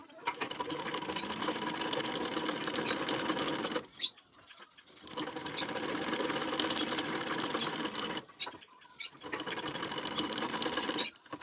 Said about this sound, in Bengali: নিয়ে এর ঠিক কানা বরাবর করে 2 সুত গ্যাপিং দিয়ে সেলাইটি ঠিক এই পর্যন্ত নিয়ে আসবো